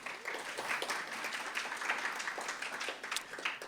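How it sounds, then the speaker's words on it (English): An audience at a campus talk on activism and HBCUs in Waller County, Texas, gives a quiet, distant round of applause. The clapping is soft, uneven and continuous, with no voices over it. "So that deserves a round of applause."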